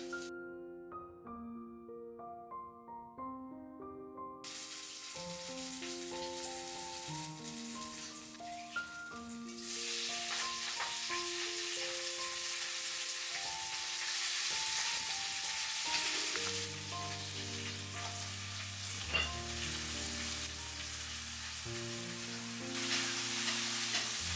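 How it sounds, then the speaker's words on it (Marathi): Steady crackling sizzle of tempering spices hitting hot oil for fenugreek greens, growing louder partway through, beneath continuous background music. "आता मी पटकन फोडणी टाकते"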